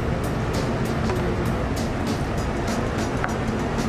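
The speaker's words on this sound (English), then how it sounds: "That'll help get the blender going." A blender whirs steadily as it purées chimichurri thinned with sherry vinegar and water, a continuous loud broadband roar with no pauses and no voices over it.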